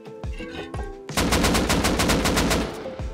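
Sustained automatic AK rifle fire in the survival game Rust, a loud rapid burst of evenly spaced shots lasting about two seconds after a few quieter earlier sounds.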